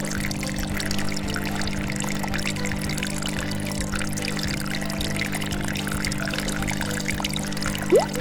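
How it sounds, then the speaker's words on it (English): A tri-flow water pump runs in a custom LEGO machine, giving a steady motor hum under continuous trickling, pouring water, with a brief rising squeak near the end. "My tri-flow pump is running."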